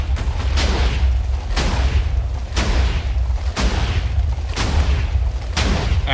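Rapid-fire TNT cannon in a video game, booming blasts that repeat at a steady pace of about one per second, each a loud broad explosion with a decaying rumble, continuous and with no talk.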